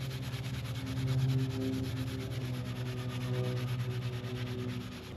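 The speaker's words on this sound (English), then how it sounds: "This is some steel wool pads with soap. They're soap filled." Soap-filled steel wool pads scrubbing the chrome of a 1940 Plymouth Deluxe, a steady close rubbing swish that swells and eases over a constant background hum.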